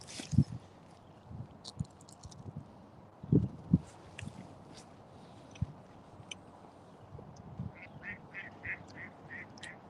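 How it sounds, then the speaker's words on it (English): Ducks quack near an outdoor spot, a few loud low honking quacks in short bursts early on, then a quick run of higher repeated calls toward the end over soft background noise. "Quiet, ducks."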